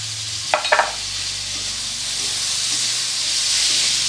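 Chopped tomatoes drop into hot fried onions with a couple of quick splatters, then a loud, steady hissing sizzle that swells and holds, close and continuous, with no voices.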